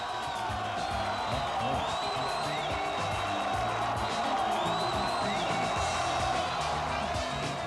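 An audience at the 1984 AAU Mr. America bodybuilding contest cheers and whoops as a competitor hits a most muscular crab pose, a steady wash of crowd noise with scattered shouts, heard from within the hall.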